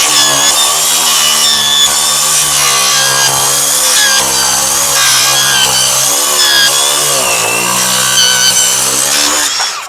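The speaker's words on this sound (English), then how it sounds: "Circular saw, if you want to use proper terminology, but it's not thick enough to make it all the way through" A circular saw cuts through a styrofoam ICF block, a loud, close, continuous high whine with a rough buzzing edge that holds steady for about ten seconds.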